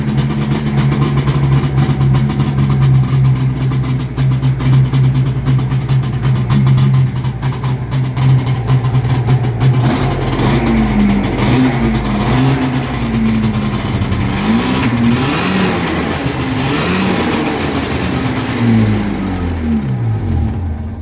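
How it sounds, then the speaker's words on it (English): A Yamaha SRV540 snowmobile engine, newly fitted with a track, runs loud and close with a steady mechanical drone, then revs up and down repeatedly in rising and falling surges, with no voices. "This thing's not run since I put the track on."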